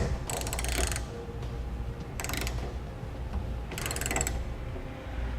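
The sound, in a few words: tightening down ladder rack bolts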